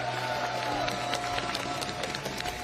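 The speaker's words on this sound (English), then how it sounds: "everybody, round of applause for Taco Dot!" A crowd at a Granblue Fantasy Versus Rising tournament top 8 claps and cheers continuously, a dense wash of applause with scattered shouts throughout.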